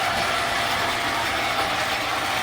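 A lathe turns a tube down to diameter, aiming a sixteenth to an eighth of an inch over stock size, giving a steady, loud mechanical whir with a fine ratcheting chatter that runs unbroken and without speech.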